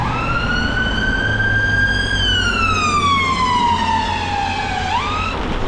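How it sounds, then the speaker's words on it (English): An ambulance siren passes along a UK road in rainy spring weather, one long sustained wail that slowly drops in pitch as it goes by, then sharply rises again, over a steady loud wash of road and rain noise. "I'm going to be careful of the ambulance."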